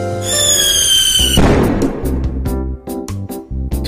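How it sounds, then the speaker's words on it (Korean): Fireworks in a video game burst and crackle after a shrill whistling rise, followed by a rapid series of popping explosions, loud and close. "예고도 없이 갑자기 불꽃놀이 시작하네"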